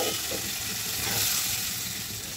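Fish heads fry in spices in a pan, giving a steady, close, bright sizzle that hisses evenly throughout with no talking.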